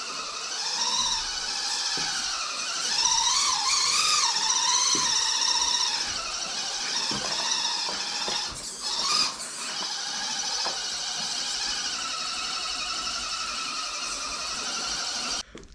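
A 1/10 scale RC crawler's two-speed transmission runs in first gear indoors, a continuous close, high motor-and-gear whine that wavers in pitch, with a brief rattle partway through.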